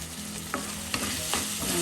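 Tomato pachadi is stirred in a pan after being covered for about four minutes, producing a soft continuous sizzle broken by three quick scraping strokes of the spoon, close by and with no voices.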